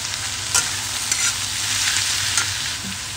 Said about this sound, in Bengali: এটা আমি গ্যাসের হাই ফ্লেম দিয়ে আমি ভেজে নেব। এর মধ্যে দিয়ে দেবো আদা রসুন কুচনো